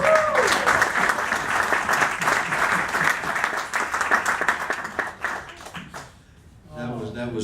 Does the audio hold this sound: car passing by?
no